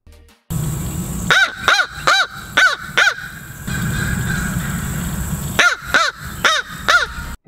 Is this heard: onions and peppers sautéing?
no